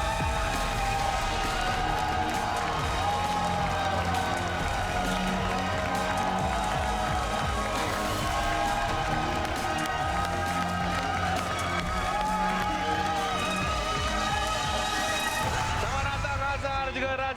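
Studio audience on the Malaysian game show RM1,000,000 Money Drop applauding and cheering for two contestants, with sustained clapping and crowd noise beneath music and a host talking.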